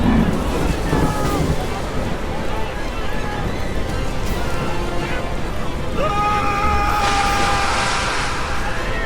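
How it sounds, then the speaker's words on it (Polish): Strong wind roars over open water with rushing surf, while voices shout intermittently over the gusts. "wiatr się wzmaga!"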